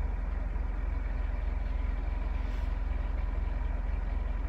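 Steady low engine rumble of a car being driven to go mow lawns on a morning at the seaside, continuous and fairly quiet with no voices over it.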